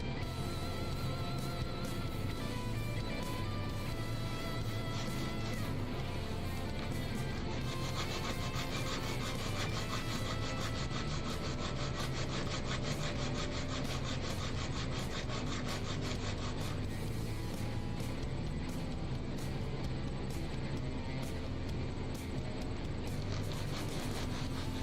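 Electric guitar frets are polished by hand with a steady, continuous rubbing rasp. The sound is faint and repetitive, with rhythmic back-and-forth strokes and no speech.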